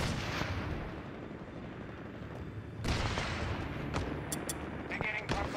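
Heavy wartime gunfire and artillery booms in a Company of Heroes 3 battle: a dense, loud continuous roar of shots and blasts, with a sharp fresh burst about halfway through and clipped military voice lines over it.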